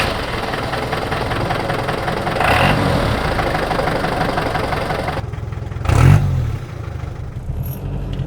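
A classic car converted to diesel runs loudly with a rough, knocking idle and steady low rumble, rising in two brief revs, the second stronger and more abrupt.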